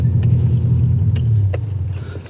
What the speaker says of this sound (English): I'll turn the car off.